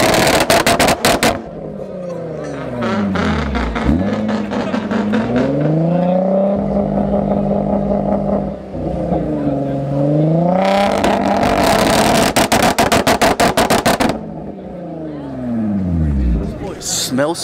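A car fitted with a Tomei exhaust revs hard and loud, the engine pitch repeatedly sweeping up and dropping back in several rising blasts, with voices chattering in the background.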